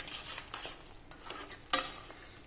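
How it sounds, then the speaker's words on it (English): An apple and cashew mixture is stirred in a pan, giving soft scraping swishes with a light clink, close and fairly quiet, with no voices. "Give it a mix."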